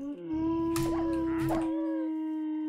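A Minecraft dog gives a sustained whining howl, tonal and moderately loud, wavering up and down for a couple of seconds without any talk.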